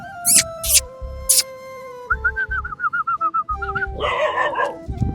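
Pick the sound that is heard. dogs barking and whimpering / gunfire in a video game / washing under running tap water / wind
dogs barking and whimpering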